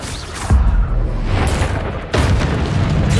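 A Bombarda spell explosion in Hogwarts Legacy: a deep booming blast bursts out loudly, followed by a rumbling roar and a second surge of blast noise that sustains to the end.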